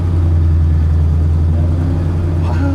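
Engine of a one-of-one Canadian Gullwing car running at a steady, strong idle, a loud low hum close by, with a faint voice near the end.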